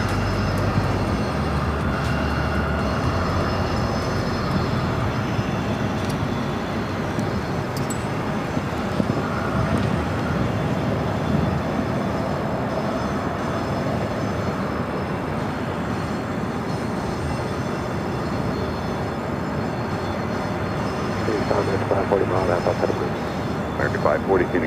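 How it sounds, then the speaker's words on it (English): An American Airlines Airbus A319 arriving from Sacramento lands at Phoenix airport, its engines a distant, sustained roar under steady talk and faint radio chatter. "This is American Airlines Flight 1067, arriving from Sacramento on an Airbus A319."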